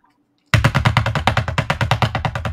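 A podcast news theme jingle opens with a sudden loud burst of rapid machine-gun-style gunfire, a fast, steady rattle of repeated shots that runs to the end after a short near-silent lead-in.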